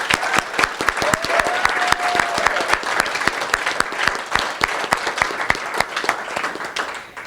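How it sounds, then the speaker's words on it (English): Enthusiastic applause from the crowd at a healthcare story slam for the evening's speakers, many individual claps clearly audible in a steady, fairly loud stream, with a faint voice or whistle briefly rising and fading toward the end. "I'd like to give another big round of applause for all of our speakers tonight"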